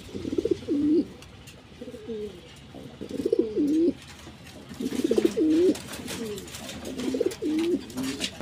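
A pair of Giribaz pigeons coo in repeated throaty, rolling phrases, close and fairly loud, with short pauses between bursts over a low background hum.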